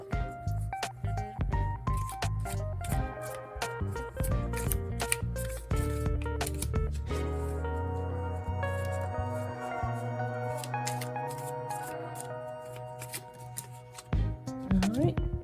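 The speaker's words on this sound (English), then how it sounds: "So one more shuffle." Tarot cards being shuffled by hand, a run of quick riffling and slapping card sounds in bursts, close and clear, with music playing and a voice speaking over parts of it.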